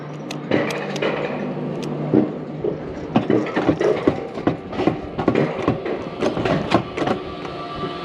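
A hand-pushed rail handcar rolls along the tracks, giving an uneven run of close, sharp clicks and clunks over a low rolling rumble.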